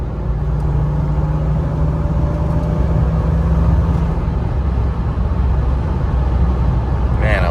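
Mercedes W203 AMG with high-flow cats and resonator delete, driving with a steady low engine and exhaust drone and road rumble heard from inside the cabin, loud and continuous throughout.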